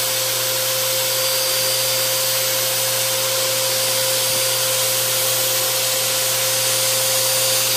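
A repaired vacuum cleaner runs on its low setting, giving a steady, continuous motor hum and airflow whoosh at close range, with no talking.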